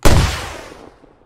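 A single loud weapon shot in the military shooter Squad, a sharp close report that booms and then decays over about a second, heard alone.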